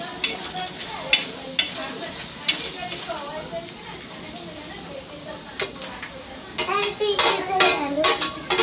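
Prawns roast and sizzle in a pan for a kolambi dish, a continuous frying hiss broken by utensil clinks and scrapes, with a voice talking over it.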